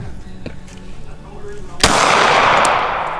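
A pistol shot fired outdoors at a candy shop range: one sharp, loud crack with a long rolling echo that fades away. Brief talk comes just before the shot.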